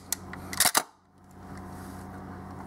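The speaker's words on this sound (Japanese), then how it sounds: "シャッターを押してみても、非常に軽快に動作してますね" A Hasselblad 503CW medium-format camera with an A12 back and WL finder fires its shutter: a small tick, then a sharp double mechanical clack with a quick mirror slap, close and crisp, then quiet room tone.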